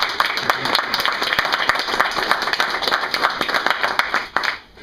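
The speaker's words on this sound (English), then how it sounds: "Give Captain Bachmeyer a big," Outdoor crowd at a ribbon cutting for a computer lab gives Captain Bachmeyer a big round of applause, brisk close clapping of many hands that carries on steadily before tapering off.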